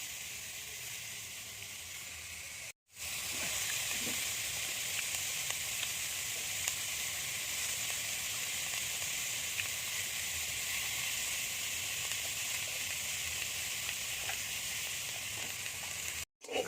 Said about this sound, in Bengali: আলু ফুলকপিটা ভাজা হতে হতে আমি পেঁয়াজটা কুচিয়ে নেব